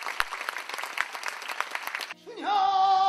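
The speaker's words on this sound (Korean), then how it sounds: "피날레에서는 기립박수가 쏟아졌습니다" Audience at the finale of a Korean traditional performance gives a standing ovation, dense continuous clapping filling the hall for about two seconds before it cuts to a sustained tonal sound.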